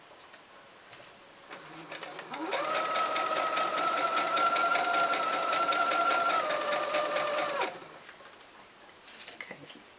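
A sewing machine stitching a star seam on a quilt, with a few quiet clicks before it runs in one steady, rapid whirring burst for about five seconds, then stops, with light handling noises after.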